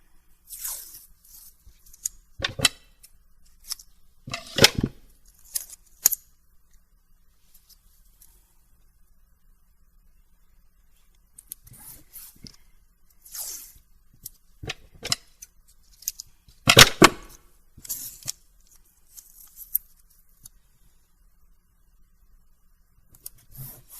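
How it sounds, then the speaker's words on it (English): Masking tape is torn and pressed down to form a 1/8 to 1/4 inch border around a sheet of watercolor paper. Sharp ripping bursts come in irregular clusters, separated by quiet pauses. "I am taping about between an 1/8 and a 1/4 inch border around the paper."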